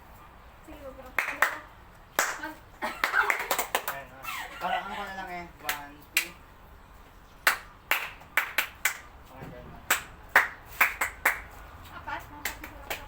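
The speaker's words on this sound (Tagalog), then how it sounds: "Kunyari, sige, palakpak" Sharp hand claps ring out close and clear, first a few scattered ones among people talking, then a quicker run of separate claps in small groups near the end.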